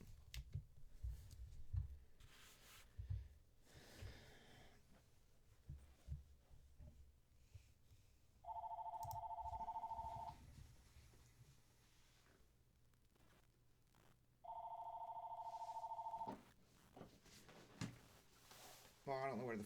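A telephone rings at the Top Shelf Sports Cards shop with two long electronic ring bursts several seconds apart. Quiet talk and handling noises surround the rings.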